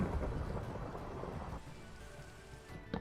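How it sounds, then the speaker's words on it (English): Thunder rolls and rain falls steadily in the video game Minecraft, a loud low rumble at the start fading into continuous dense rain noise, with no voices. "Midway through making my walls, there was thunder, and I'm like, okay, I don't want anything to burn even though it is raining"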